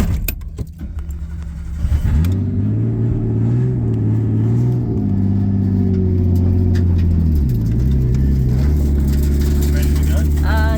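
A car drifting on a Japanese touge mountain course: a loud, close engine hums and revs with rising and falling pitch, while people talk over it and keys jingle at the start.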